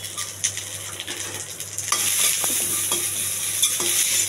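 Urad dal, chana dal, cumin seeds and mustard seeds with curry leaves roasting in oil in a pan, a quiet crackle that swells into a louder steady sizzle, with repeated scraping stirs of a spoon against the pan.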